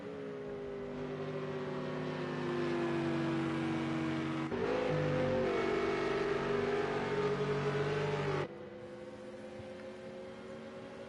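Porsche and AMG GT3 race cars in a racing video game, engines droning steadily down a straight with harmonic whine rising and shifting, a second car's tone joining midway before cutting back near the end, with no talk.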